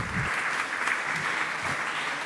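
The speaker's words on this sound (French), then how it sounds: "Je pense que vous pouvez vous applaudir." An audience at a French housing-policy round table applauds steadily for a couple of seconds, a dense wash of many hands clapping at a moderate distance, with no talk over it.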